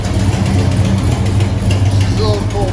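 A carbureted A12 car with a 440 Six Pack engine idles with an exhaust leak, giving a steady, close, loud low rumble that runs unbroken throughout.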